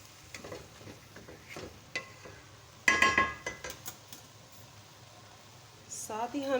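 Fenugreek leaves and potatoes for aloo methi are stirred in a pan with scraping strokes, a bright clink of utensil on metal near the middle and a soft sizzle underneath; a voice is briefly heard.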